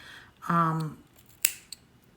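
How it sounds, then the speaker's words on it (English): Scissors cut the cotton wick of a Chalice MTL RTA vape atomizer, giving two sharp, close snips after a brief tonal sound. "Go ahead and grab my scissors."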